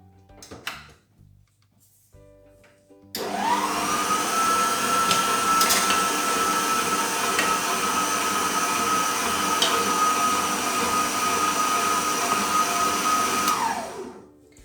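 A stand mixer kneading brioche dough starts up after a few quiet seconds of handling noises, then runs with a loud, steady motor whine and rumble for about ten seconds before spinning down.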